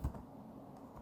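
Quick keystrokes tapped on a computer keyboard while entering text into the Google Chrome address bar: a short, close burst of light clicks.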